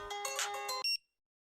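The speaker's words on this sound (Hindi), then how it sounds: "ए, फोन बज रहा है, उठाकर बात करना।" Mobile phone ringtone in a Hindi-dubbed film scene: a bright melodic ring of rapid tones lasting under a second, ending in a short sharp beep, then silence.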